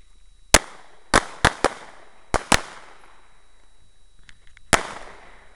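Sharp gunshots from a double-tap shooting drill on hostage targets, about seven loud cracks that come mostly in quick pairs with short gaps between them and echo a little in an open range setting.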